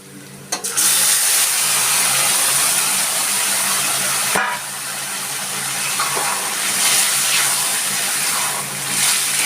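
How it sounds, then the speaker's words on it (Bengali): Jute leaves hit a hot pan with a sharp initial crackle, then a loud, continuous sizzling hiss with a second burst midway, close up and without speech. "আমি এবার পাট শাকটা এর মধ্যে ঢেলে দিচ্ছি"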